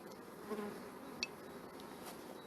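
Honeybees at a hive in an apiary give a faint, continuous, even buzz throughout, with a few slightly louder passes of single bees close by.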